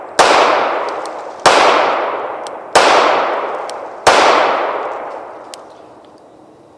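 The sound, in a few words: Rock Island Armory RIA 5.0E pistol shots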